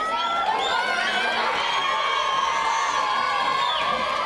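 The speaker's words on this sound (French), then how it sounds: "Il a été accueilli par des acclamations." Schoolchildren in a Montreuil crowd cheer and shout excitedly as an athlete arrives, a loud continuous mass of high-pitched whoops and yells.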